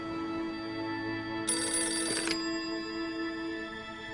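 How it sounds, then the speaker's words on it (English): A telephone rings inside a Roblox Thomas and Friends game as one short, bright ring burst of under a second. Soft, steady tonal background music plays beneath it. "Then, the telephone rang."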